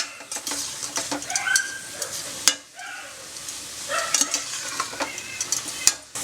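Fenugreek greens being stirred in a cooking pot with salt, a steady sizzle broken by repeated scraping sweeps and a few clinks of a spoon against the pot.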